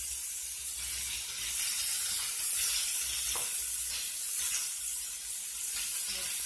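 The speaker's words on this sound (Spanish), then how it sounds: "así vamos a echar todo el pollo para que se haga. Miren, amigo, ya se está friendo ahí." Pieces of chicken fry in hot oil with a steady, dense sizzle and hiss that holds for several seconds, heard close up and mostly on its own with no talking.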